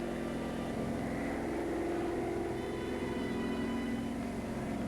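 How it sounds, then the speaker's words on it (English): German reconnaissance plane from WWII film footage drones steadily, a low, even propeller engine hum held at moderate distance with no voices. "German reconnaissance plane"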